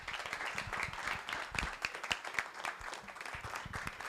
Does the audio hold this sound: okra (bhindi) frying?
no